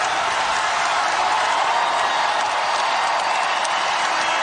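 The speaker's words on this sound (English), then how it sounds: "This crowd can feel it, and they are chanting Tara" Dense, steady crowd roar from a women's college basketball arena, fans chanting Tara continuously at high volume, no clear pauses.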